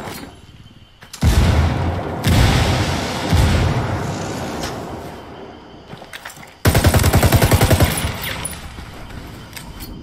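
In a video game firefight, loud close bursts of rapid gunfire crack out in two long volleys, with a heavy blast from a thrown frag grenade somewhere in the barrage and quieter stretches between the bursts.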